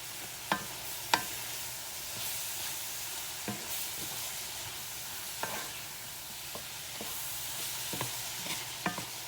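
Squash, tomato and other vegetables cook in butter with garlic powder, giving a steady, soft sizzle throughout, broken by occasional sharp clicks and scrapes of stirring.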